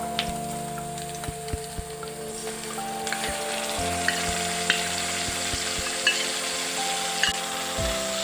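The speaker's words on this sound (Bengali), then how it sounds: "এইখিনি অলপমান ভাজি উঠাৰ পিছতে ইয়াতে মই ইতিমধ্যে ৰেডি কৰি থৈ দিয়া পেষ্টখিনি দি দিছোঁ।" A spice paste sizzles in hot oil with onion and bay leaf for a jackfruit curry, a soft continuous fry punctuated by sharp clicks and scrapes of stirring, close and fairly quiet.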